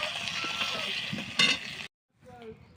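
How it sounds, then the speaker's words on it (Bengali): Fish frying in oil during outdoor cooking in hot sun, a close, continuous sizzle with a brief louder burst before it cuts off, followed by quieter sizzling. "চলো মাছটা ভাজা হোক"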